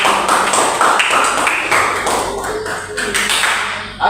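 Students in a Malay-language classroom clap together on cue, a dense, loud burst of applause from close by that holds steady for several seconds and then thins out toward the end.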